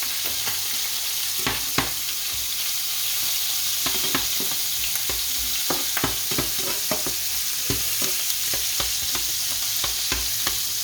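Cashew nuts fry in hot oil in a pan with a constant bright sizzle. Irregular clinks and scrapes of stirring are spread through it, close by and moderately quiet.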